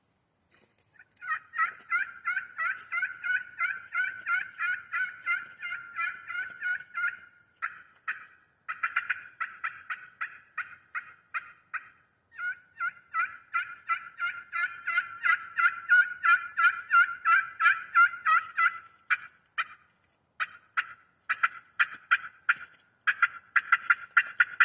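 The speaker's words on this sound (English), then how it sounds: "with a slate surface, very easy to play, especially for beginners if they're just learning a pot call." A maple-tipped slate turkey pot call is played, giving a long run of rapid, scratchy yelps and clucks in bursts with short pauses, close and clear with no talk.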